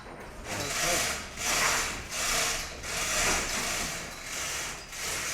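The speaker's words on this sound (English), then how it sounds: "It's an old-fashioned winch and pulley type method" Old-fashioned winch and pulley hoisting a large Lego model, giving a repeated grinding, rubbing creak in regular strokes about once a second, moderately close with no talk.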